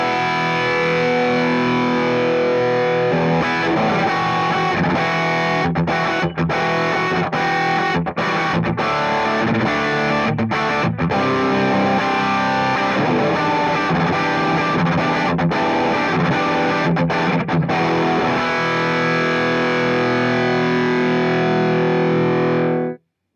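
A Kiesel Zeus guitar with lithium pickups through a Bogner Ecstasy Mini head into an Orange 2x12 cabinet plays high-gain distorted riffs, loud and dense, with sustained chords broken by short palm-muted stops, continuing alone for over twenty seconds.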